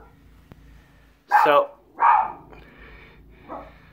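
A dog barks in short bursts behind someone talking indoors, two louder barks followed by a fainter one, moderately close.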